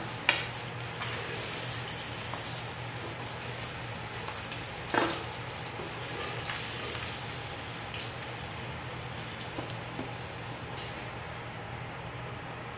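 Fish frying in a pan for masala fish curry, a soft continuous sizzle and crackle at low level with an occasional sharper pop or clatter, heard alone without talk.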